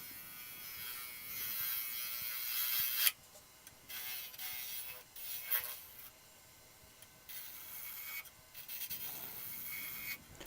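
A wood lathe turns a rolling pin as a carbide tool cuts end grain, giving a rough scraping hiss in uneven bursts with brief pauses, close and moderately quiet.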